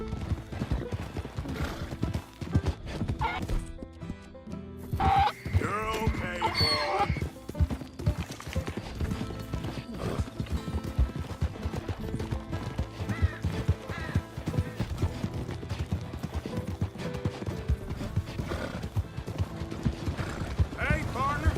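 A donkey's hooves clip-clop steadily in Red Dead Redemption 2, a continuous walking rhythm running the whole way through with a brief whinny-like call, while someone speaks over it.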